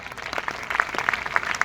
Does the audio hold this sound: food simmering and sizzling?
no